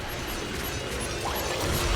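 Bristleback's quill spray in a Dota 2 match at The International 2023 makes a dense, continuous metallic clatter of spiky impacts, loud and unbroken, swelling slightly toward the end with no voices on top.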